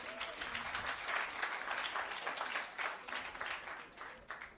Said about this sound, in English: Give the team a round of applause.